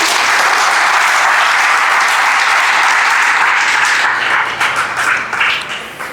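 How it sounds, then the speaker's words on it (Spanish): Loud, full applause from a church congregation fills the room for about four seconds, then thins into scattered claps and fades out. "Denle un aplauso para Cristo."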